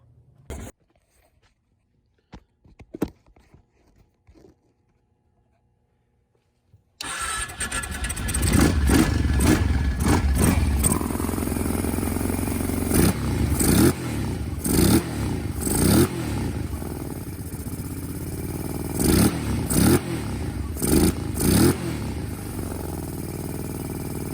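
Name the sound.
Kawasaki KFX 700 ATV engine trying to start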